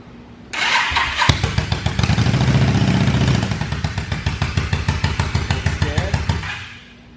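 A Yamaha V-Star 650 bobber motorcycle cranks and fires up loud and close. The engine catches with a surge and then settles into a rapid, pulsing idle before fading out.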